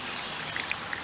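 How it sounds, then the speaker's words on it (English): A small watering pot gently pours water onto seeded garden ground, giving a steady, soft trickling and splashing wash at close range with no talk. "So I'm just going to use my little watering pot and gently water this area."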